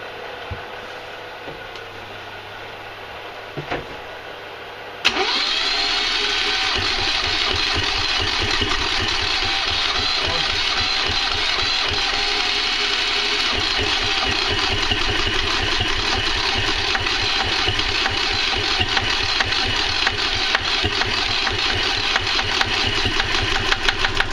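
A Yanmar 3GM30 three-cylinder marine diesel, heated air blown into its intake, cranks briefly and then fires, settling into a loud, steady, knocking idle that carries on alone for about twenty seconds.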